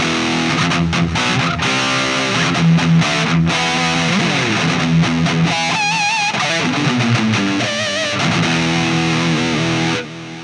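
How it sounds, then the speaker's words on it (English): An electric guitar runs through an Ibanez PT-5 Tube Screamer distortion pedal, playing loud crunchy chords and sustained bent notes with gritty high-end gain, then cutting off near the end. "It's the Tube Screamer distortion."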